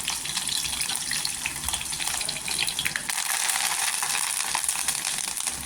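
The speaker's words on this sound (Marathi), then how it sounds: "तेल गरम झाल्याने इथे आहे ना लसूण टाकायची, भरपूर अशी लसूण टाकायची" Garlic and fresh curry leaves sizzle in hot oil for a spicy dried-fish chutney tempering, a loud, steady hissing crackle that fills the whole stretch with no voices.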